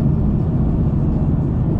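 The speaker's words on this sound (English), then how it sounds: "got some road noise" Road noise inside a moving 8th-generation Honda Civic Si with a Full Race 76mm exhaust, cruising around 2500 RPM on rough roads: a steady, close, low rumble that runs unbroken with no talking.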